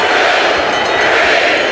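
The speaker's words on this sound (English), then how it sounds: "That's why you hear the crowd counting." A dense, steady roar from a basketball arena crowd during a free throw late in the game, loud and continuous for the whole stretch with no single voice standing out.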